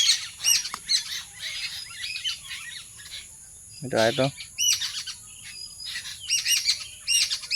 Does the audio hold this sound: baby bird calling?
yes